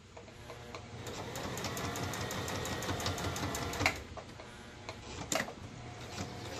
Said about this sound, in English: you really got to make sure you get a good stitch in these corners